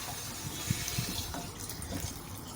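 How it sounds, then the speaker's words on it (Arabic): Milk is poured into a pot of cooked, swollen whole wheat, giving a soft, steady liquid pour with gentle splashing and faint gurgles that last a couple of seconds. "هنزل عليها كيلو لبن."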